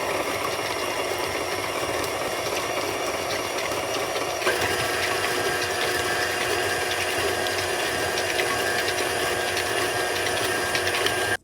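An electric mixer beating peanut butter cookie dough after vanilla extract goes in, a loud, steady motor whir that runs without a break and shifts slightly in pitch partway through.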